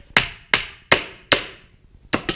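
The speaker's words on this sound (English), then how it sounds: "I'm just going to nail them in here quick" A hammer drives nails into a wooden muskrat float for foothold traps, five sharp, close, loud strikes at a steady pace, the last two in quick succession.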